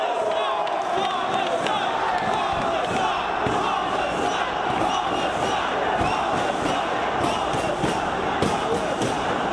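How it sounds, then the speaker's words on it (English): Wrestling crowd at a Ring of Honor show in Fairfield roaring and cheering steadily throughout, a dense loud wall of voices with scattered shouts and thumps, as if fans are on their feet. "The crowd here in Fairfield rising to their feet, hovering around Homicide."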